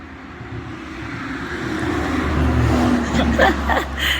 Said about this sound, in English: Car has to pass.